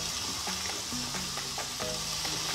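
Washed horse gram goes into sizzling fried masala, a dense frying crackle with wet stirring and splashing sounds and a few sharper clatters, close and continuous with no talking.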